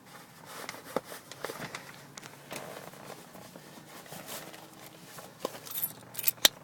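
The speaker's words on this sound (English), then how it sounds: "let me see if I can find the keys for it" Car keys jangle in bursts of light metallic clinks while someone rummages for them, with scattered rustles and knocks between the jingles, close by and fairly quiet.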